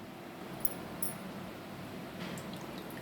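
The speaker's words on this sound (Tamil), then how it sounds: "2 கப்பு தண்ணி ஊற்றிக்குவோம்." Water pours steadily into a pot over sugar for rasmalai syrup, a soft, continuous splashing rush, low and close, broken by a couple of small clinks.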